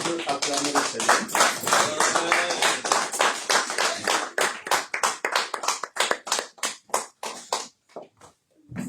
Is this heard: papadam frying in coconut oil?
no